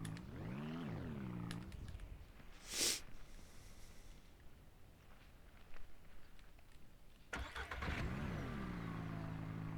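A car engine in the Ranch Simulator video game revs up with a rising whine, settles into a rough idle, then revs hard again near the end, fairly close and alone.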